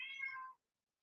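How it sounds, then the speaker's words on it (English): One short cat meow, close and clear, cut off abruptly and followed by silence. "That's my cat."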